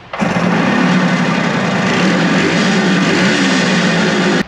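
A Suzuki two-stroke motorcycle engine runs on choke with a carburetor being adjusted, a loud, steady, high buzzing idle heard close up and alone from start to finish.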